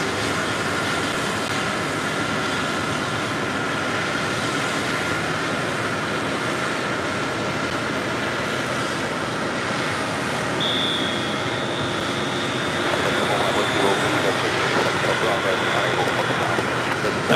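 Delta Airlines Airbus A321 jet departing JFK on runway 4 left, a steady broadband engine roar holding at a constant level throughout, swelling slightly near the end as the aircraft climbs away.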